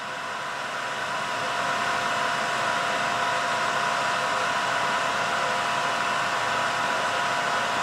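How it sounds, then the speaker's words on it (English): Clothes dryer running with a steady broadband whoosh and faint tonal hum, constant and moderately loud throughout, no voices. "the dryer still has 4 minutes 49 seconds to go"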